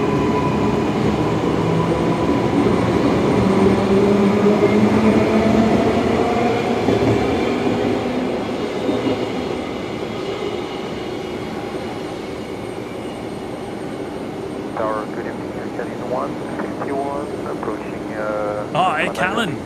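Boeing 737 Classic jet airliner taxiing at Brisbane Airport, a steady loud turbine roar and whine that slowly fades, with voices speaking over the later part.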